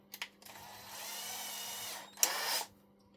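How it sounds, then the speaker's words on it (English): An electric drill driving a tap into thin, soft aluminium chassis: several short whirring bursts, one longer run of about a second and a late sharp burst, close and moderately loud with no voices. "because it's only like thin aluminium and right thin, right soft, I'm going to cheat and put it in electric drill."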